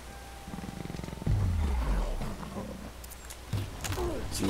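Wild cat in the video game Ancestors: The Humankind Odyssey growls and roars in low, rumbling bursts, one long snarl followed by a second louder growl, over ambient game noise.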